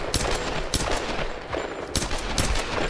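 Dense, repeated gunfire from the video game Tomb Raider, with sharp broadband bursts recurring every half second or so over a steady noisy game backdrop, fairly close and loud, with no talking.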